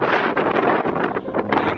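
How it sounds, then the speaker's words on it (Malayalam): Cold wind blowing on a hilltop in Idukki, buffeting the microphone in loud, gusty roaring bursts that rise and fall throughout, with no voices. "എന്നാ കാറ്റ്, നല്ല തണുത്ത കാറ്റാണ്."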